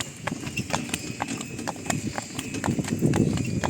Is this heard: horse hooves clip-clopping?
yes